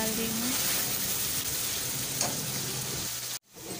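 Spices for a Bihari-style fish curry sizzle and crackle steadily in hot oil as a tempering, a dense frying hiss with a few faint tones, ending abruptly.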